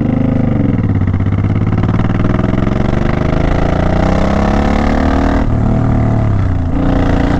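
A Suzuki Boulevard motorcycle engine, close and loud, revving and climbing in pitch as the throttle is twisted, with a dip and a second rise toward the end, no one speaking.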